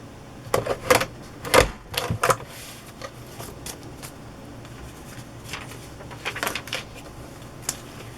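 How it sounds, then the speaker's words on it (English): A Cinch Bind-It-All binding machine punches holes through journal pages made from wrapping paper, ledger paper, book pages and wallpaper, giving a few loud clunking, clattering strokes in bursts, then lighter scattered clicks. "I am going to cinch this with my bind-it-all."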